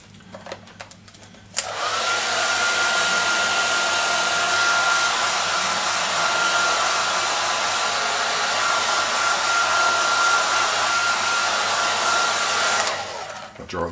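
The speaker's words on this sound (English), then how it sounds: "I'll dry that Windex off." Hair dryer blowing steadily to dry glass cleaner off a CRF250 motorcycle number plate, a loud continuous whoosh starting abruptly and running for about eleven seconds before cutting off, with faint handling noises before it.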